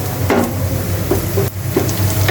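Bay leaf hitting hot oil beside frying onions, a steady close sizzle with a few stirring scrapes and brief spits over a constant low frying hiss, no talk.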